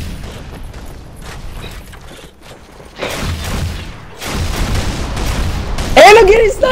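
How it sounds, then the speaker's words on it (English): Sniper rifle fire in a Halo 3 custom multiplayer match, sharp gunshot bursts cracking out over steady in-game combat noise, with louder impacts toward the end. "I'm getting sniped!"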